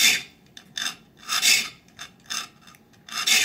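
Short rasping strokes of a file across the teeth of a handsaw, each stroke under an inch, coming in close, uneven bursts with brief pauses between them and no talking.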